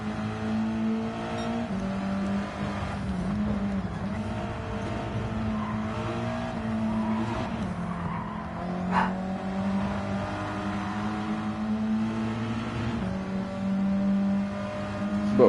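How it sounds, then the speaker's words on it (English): Race car engines drone steadily with shifting pitch in the Gran Turismo 7 video game, one engine rising and falling against another, a continuous loud hum with no talk. "Nothing worse than just hearing another engine while you're hearing yours."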